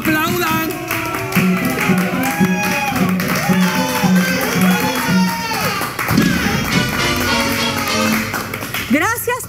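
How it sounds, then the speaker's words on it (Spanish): A political rally crowd breaks into scattered applause and taps beneath a loud amplified speaker's voice, steady and dense throughout with talk layered on top. "Gracias por ese aplauso espontáneo"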